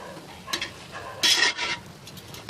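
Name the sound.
frying chopped tomatoes with ginger-garlic paste in pan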